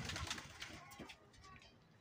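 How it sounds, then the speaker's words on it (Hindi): A pigeon gives soft, low coos, faint and close, mixed in with quiet talking in a Bhopal pigeon-keeping setting. "आज ये कबूतर काफ़ी अच्छी कंडीशन में है, खा पी रहा है, उड़ रहा है"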